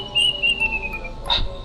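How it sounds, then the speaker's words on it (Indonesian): A bird call in a horror story setting: a thin, sustained whistle-like tone drifting slightly downward for about a second, then a brief brighter chirp near the end, over a soft background hiss. "itu suara burung."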